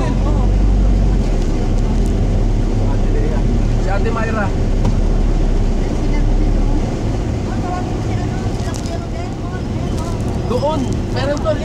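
Motorcycle engines drone and rumble continuously along a busy road, a dense, loud low hum of traffic that never lets up, with people chatting over it throughout.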